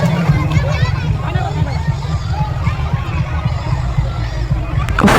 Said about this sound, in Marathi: हे बघा गर्दी कसली आहे.